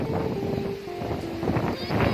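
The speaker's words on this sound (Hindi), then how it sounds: "ये देखो कितनी ज्यादा हवा चल रही है और फसलें लहरा रही हैं" Strong wind blows across village fields and swaying crops, a steady roaring rush buffeting the microphone close up, with gusts rising and falling throughout.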